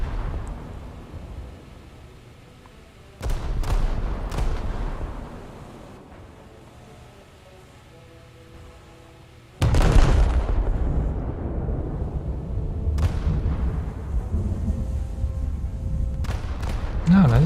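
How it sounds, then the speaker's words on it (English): Rear gun turrets of a warship firing salvos in a naval combat game: two heavy, booming blasts several seconds apart, each followed by a long rumbling tail, with someone talking underneath. "I can give him a salvo of the rear guns"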